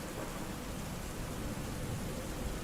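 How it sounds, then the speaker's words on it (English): Steady broadband rain hiss with a soft low rumble, an even wash with no distinct drops, close and continuous throughout. "Giving us some beautiful rain noises."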